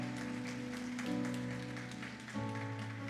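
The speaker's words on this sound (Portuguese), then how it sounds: "Você pode aplaudir o Senhor? Faça isso com alegria." A church congregation at a worship service claps faintly and steadily beneath sustained keyboard or organ chords that shift pitch partway through.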